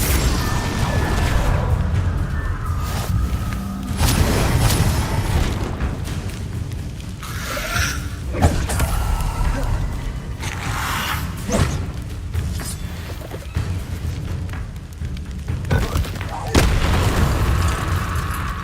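Confringo and Bombardo explosion spells in Hogwarts Legacy, repeated booming blasts and bursts at irregular intervals amid game combat noise, loud and close, with spoken incantations mixed in.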